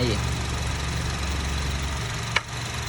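A 2.0-litre third-generation Honda CR-V engine idles with a low, steady rumble throughout, and a brief click sounds near the end.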